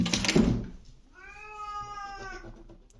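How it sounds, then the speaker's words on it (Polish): A single drawn-out cat meow, clear and close, following a brief burst of noise at the start. "oczywiście kot tutaj buszuje"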